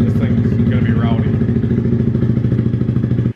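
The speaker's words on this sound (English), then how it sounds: "we got the Hindle exhaust all installed onto my green Honda Grom here, and to be honest, it sounds really good" A 2020 green Honda Grom fitted with a Hindle exhaust runs loud and steady up close, its deep rapid pulsing drone holding for about three seconds before cutting off abruptly.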